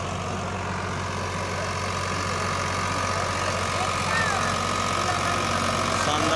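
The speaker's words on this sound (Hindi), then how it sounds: "ये आईसर 551 का डेमो रूटावेटर पर शानदार" An Eicher 551 tractor engine driving a rotavator during a village field demonstration, a loud steady low diesel rumble with a constant throb and no drop in revs, with background crowd noise.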